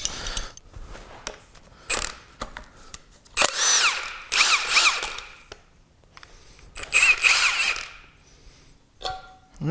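A power tool zips out the last head bolt holding the filter housing on a 1931 Plymouth engine, whirring in several short, loud bursts between clicks and clanks of handled parts.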